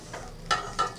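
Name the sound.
pabda fish frying in hot oil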